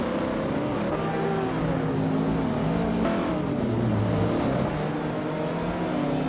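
A 2011 Cadillac CTS-V race car in a racing video game, its engine droning loud and steady throughout with shifting revs and no talking.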